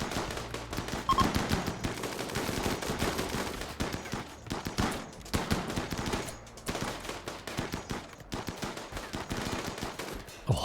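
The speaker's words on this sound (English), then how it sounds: "the reach of those assault rifles is something quite impressive" Assault rifle fire in RimWorld: rapid repeated bursts of gunshots, some long automatic runs, others shorter volleys, loud and continuous with brief gaps between bursts.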